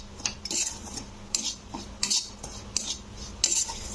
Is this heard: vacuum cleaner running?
no